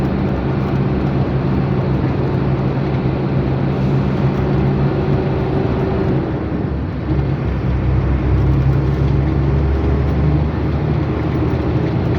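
Low, steady engine drone inside a bus moving slowly, a constant loud rumble with a slight dip and swell midway, no voices.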